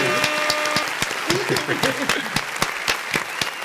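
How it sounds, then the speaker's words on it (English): People on a podcast set clap for a guest, sharp separate claps from a small group in an uneven rhythm, with talking and laughter running underneath. "let's give a big round of fucking applause"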